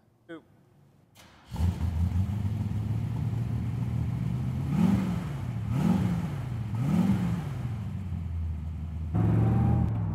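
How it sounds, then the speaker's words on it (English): A 1966 Chevrolet Corvette with a 350 V8 cruises on the road, its low engine rumble steady and close, with a few rising revs as it accelerates between shifts and no talk over it. "we're out cruising in the 66 Corvette"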